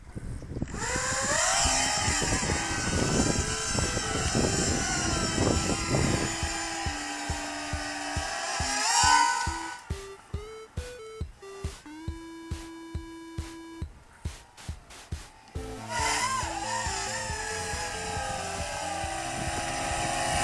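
A WLtoys Q282-G FPV micro hexacopter drone takes off with a loud, high-pitched whine of small motors, which then breaks into short pulses and beeps before the sustained buzzing returns.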